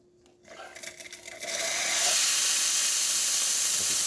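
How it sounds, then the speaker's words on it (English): Steam wand on a serviced Rocket R58 espresso machine opens with a few sputters, then builds into a loud, steady, close-up hiss that holds strong to the end. "very good steam coming out of this"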